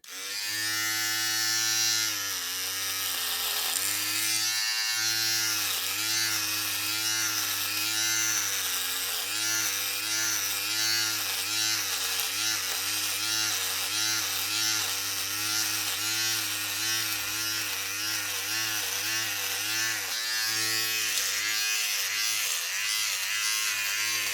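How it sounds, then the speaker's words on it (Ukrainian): A Philips MG3720/15 7-in-1 electric trimmer buzzes loudly and continuously while shaving, its steady motor whine wavering in pitch as it moves across hair, close up and alone. "давайте я продемонструю, як відбувається процес гоління"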